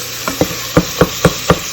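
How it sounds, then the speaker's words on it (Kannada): A tempering of onion, ginger-garlic paste and tomato with turmeric, chicken masala and garam masala fries in oil under a steady sizzle, broken by six evenly spaced, loud, close stirring scrapes. "ಒಗ್ಗರಣೆಗೆ ಈರುಳ್ಳಿ ಮತ್ತು ಸ್ವಲ್ಪ ಶುಂಠಿ ಬೆಳ್ಳುಳ್ಳಿ ಪೇಸ್ಟು ಮತ್ತು ಟೊಮ್ಯಾಟೊ, ಸ್ವಲ್ಪ ಅರಿಶಿನ, ಸ್ವಲ್ಪ ಚಿಕನ್ ಮಸಾಲ, ಚೂರು ಗರಂ ಮಸಾಲ ಹಾಕ್ಕೊಂಡಿದ್ದೀನಿ."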